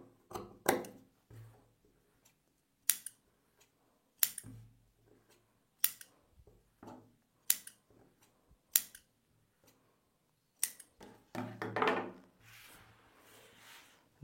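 Scissors snip through blouse fabric along marked armhole lines, a close series of sharp, crisp cuts spaced a second or two apart, ending in a rustle of cloth being handled.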